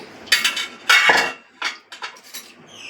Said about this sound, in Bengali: এবার গ্যাসে একটা কড়াই বসিয়ে দিয়েছি